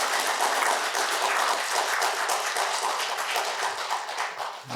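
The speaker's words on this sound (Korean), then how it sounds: "박수 쳐주시기 바랍니다." A church congregation at a Sunday service at a Korean Presbyterian church in Niagara applauds the installation of two new deaconesses, producing dense, steady clapping that fills the room for several seconds without letting up.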